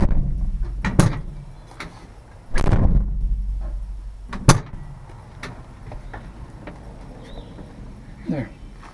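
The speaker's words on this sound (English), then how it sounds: "Shut the door." A door slams shut on a 1992 Nissan pickup truck, a loud thud near the 2.5-second mark with further knocks and clunks around it, while a person talks nearby.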